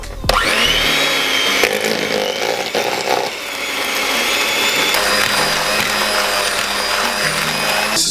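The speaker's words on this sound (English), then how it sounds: "get the unsalted butter and the castered sugar and just cup that in and just start mixing" An electric hand mixer beats unsalted butter and caster sugar together in a bowl for ice cream sandwich cookie dough, a steady loud motor whine with rattling and scraping against the bowl throughout, with no talk.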